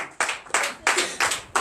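A congregation at a night deliverance and prophecy church service claps in five loud, evenly spaced bursts, close and rhythmic, with no talking over it.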